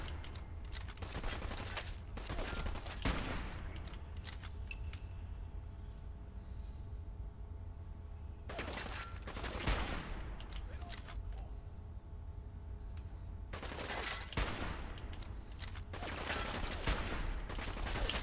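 Game gunfire from hip-fired .308 rounds in Fallout 4 comes in three rapid bursts of several shots each, separated by quieter pauses with low background hum; fairly faint overall.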